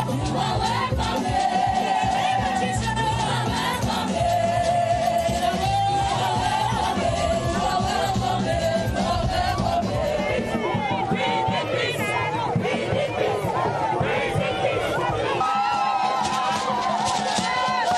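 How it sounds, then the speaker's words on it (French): A crowd gives an ovation and cheers to welcome Cameroon's Prime Minister Dion Ngute on a visit to Bamenda, loud, sustained cheering and shouting with whoops throughout, a voice speaking over the crowd. "l'ovation des populations est à son comble"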